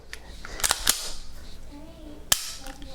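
A pistol dry-fired with a laser training cartridge gives a few sharp, quiet clicks, one cluster early and a single snap later, faint and close in a quiet room.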